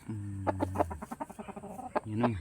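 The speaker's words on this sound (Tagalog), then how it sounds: "Salbahe yung manok na yun." Clucking from a chicken, close by, in a quick run of short calls broken by brief pauses, with a longer drawn-out cackle at the start and end.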